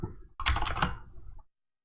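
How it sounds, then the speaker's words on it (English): A few quick computer keyboard keystrokes entering a shortcut in architecture modeling software, crisp close clicks in a short burst, then silence. "I'm using a keyboard shortcut to set the work plane"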